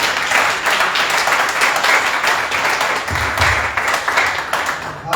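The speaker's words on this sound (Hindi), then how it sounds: "भाई के लिए तालियों से हम सब वेलकम करें" A church congregation at a Sunday prayer service applauding to welcome a brother, with a steady wash of many hands clapping throughout, close and loud, and no talk over it.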